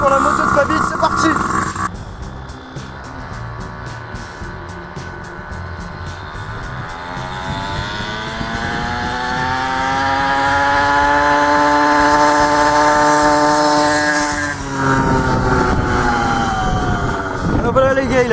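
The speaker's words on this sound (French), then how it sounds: "Donc les gars, deuxième chrono, cette fois-ci pour la moto de Fabien, c'est parti." A modified pocket bike cross engine revs hard during a timed run, a high buzzing whine that climbs steadily in pitch, holds at the top, then drops off, with a brief burst of sound before it starts.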